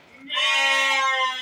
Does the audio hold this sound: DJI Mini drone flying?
no